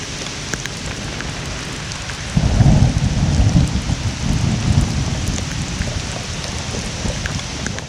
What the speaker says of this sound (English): I am here in the rain in a thunderstorm. It's lightning.